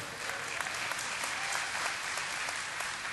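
A crowd claps loudly and continuously, a dense wash of applause holding steady throughout.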